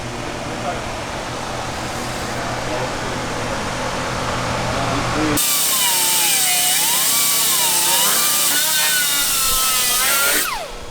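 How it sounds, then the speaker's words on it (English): A power tool cuts and grinds an extra metal lip off a welded Nissan S13 car body, producing a loud continuous whine that shifts in pitch and stays close and steady throughout. "Gotta cut this little extra lip off and do some grinding"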